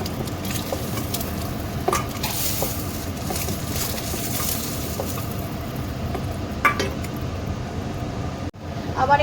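Fried eggs sizzling in oil in a pan for an egg curry, with a steady crackling fry running throughout and occasional scraping and clinking as they are moved to a bowl.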